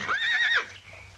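A single loud, wavering horse whinny rises and trembles for about half a second, then fades to quiet.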